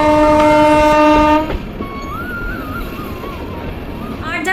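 A train runs through Lataguri forest, opening with a loud sustained horn blast, then a steady rumble of rolling wagons with a faint wavering tone, and a second horn begins at the end.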